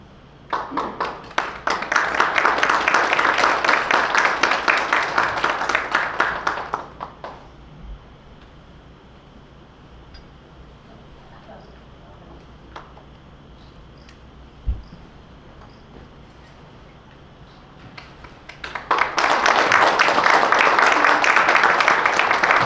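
An audience at a literary award ceremony breaks into applause twice, a sustained burst of clapping at the start and another near the end, with quieter room tone and scattered small sounds between.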